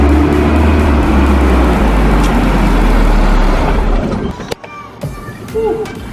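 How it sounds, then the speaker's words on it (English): A turbocharged Audi RS3 engine drones loudly and close for several seconds, then the note drops away at a gear shift with a sharp pop and scattered crackles, with a voice talking over it. "The one thing that sounds nice in this is the gear shift. Yeah, the gear shifts are very nice. You get a little crackle as well."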